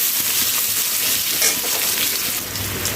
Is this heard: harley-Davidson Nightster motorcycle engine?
no